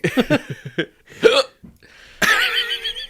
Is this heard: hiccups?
yes